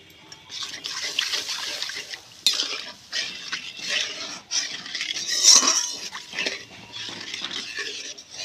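Water poured into a pan while cooking Bengali begun sundori with mustard-poppy seed paste and green chillies, heard as close splashing and sizzling with clinks of utensils and stirring throughout.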